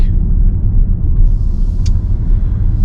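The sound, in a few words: Range Rover L405 engine revving to 2,500 RPM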